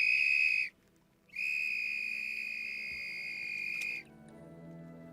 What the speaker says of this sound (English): The whistle is 3 to 5 times louder than the human voice.